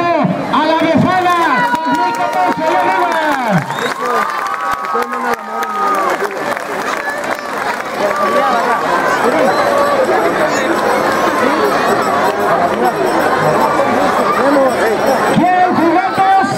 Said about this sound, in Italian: Così che un applauso alla Befana!